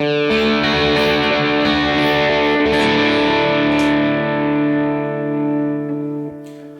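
Distorted electric guitar through a Line 6 HX Stomp amp modeler, miked about 5 inches at the cone center, playing sustained, heavily saturated chords with a thick low end, ringing out and fading near the end.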